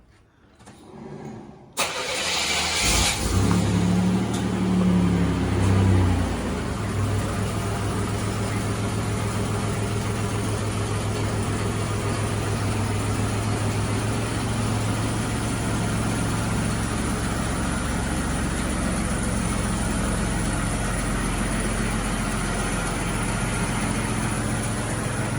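A Buick GN's engine cranks and catches, then runs steadily and loud for over twenty seconds as the car drives off, with a deep, even drone throughout and no talk.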